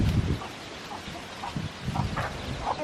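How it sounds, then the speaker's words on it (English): Chickens clucking in short scattered bursts close by, with rustling and outdoor background noise. "You guys wanna feed the chickens?"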